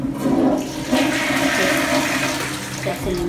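Japanese toilet flushing after its button is pressed, a loud continuous rush of water swirling through the bowl for the full stretch, with no voices over it.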